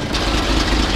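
An old fire truck engine idles with its exhaust close by, a loud, steady low rumble that fills the whole moment with no speech.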